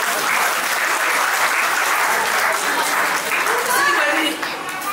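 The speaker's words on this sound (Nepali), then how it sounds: "ताली बजाऊ" Wedding guests at a Christian ceremony clap together in steady, dense applause that fills the room throughout and then fades slightly at the end.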